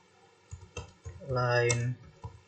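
Computer keyboard keys click while a command is typed into a Cisco switch console, a few scattered taps near and clear, with a person speaking over part of them.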